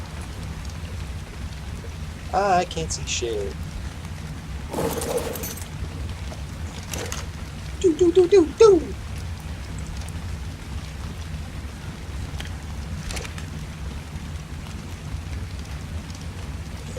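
Steady rain falls during the night in a dinosaur survival video game, a constant hiss beneath scattered clatters and brief louder bursts. Someone speaks briefly and hums over it.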